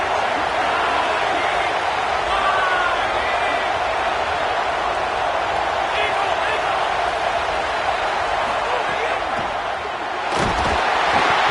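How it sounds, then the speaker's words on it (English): A loud college football stadium crowd roars continuously during a third-and-goal play, a dense, unbroken wall of cheering and noise that stays at full volume throughout with no pause. "This crowd trying to do its part to get inside the kicker's head."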